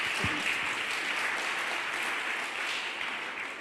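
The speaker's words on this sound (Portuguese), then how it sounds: "Você pode aplaudir ao Senhor bem forte por isso?" A church congregation at an intercession service applauds steadily, with dense, even clapping filling the whole stretch at moderate distance.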